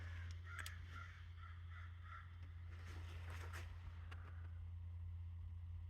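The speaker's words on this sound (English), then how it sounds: "They're having fun outside. A crow fight." Crows cawing and squabbling outside, a run of repeated harsh caws, fairly distant over a steady low engine-like hum.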